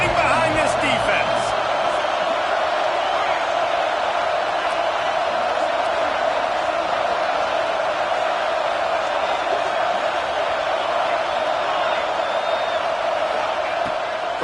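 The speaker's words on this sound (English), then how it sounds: "this crowd is getting behind this defense" Stadium crowd in the College Football 26 video game roars steadily through a big third down in the red zone, a dense continuous cheer with whoops, loud and constant throughout.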